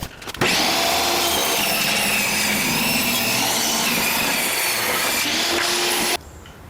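A power saw cuts scrap wood pieces for an indoor greenhouse, a loud, continuous rasping whine that starts abruptly and stops sharply after about six seconds, close up with no talking.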